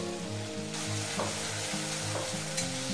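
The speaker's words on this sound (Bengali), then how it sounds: "মশলাটা ভাজা হয়ে গেছে," Spiced yogurt paste for a curd brinjal dish fries and sizzles in oil over a low flame, a steady close crackle with a few stirring scrapes and no voices.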